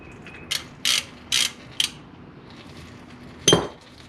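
A ratchet wrench loosening the transmission fill plug on a Subaru, five distinct bursts of ratcheting clicks in quick succession, then a pause and one final louder burst, close and clear with no voices.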